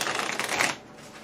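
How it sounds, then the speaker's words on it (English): A deck of board game cards gets a quick riffle shuffle, a dense rapid flutter of card edges for most of a second, then trails off into quiet room tone. "let's give this a quick shuffle."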